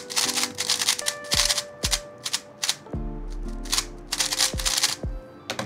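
A plastic Rubik's cube with a hollow-sounding body, a GAN 16 Maglev Max, turned in quick bursts of sharp clicky clacks with short pauses between runs, close and alone with no talking.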